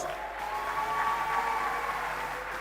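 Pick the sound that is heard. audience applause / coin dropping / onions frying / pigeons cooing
audience applause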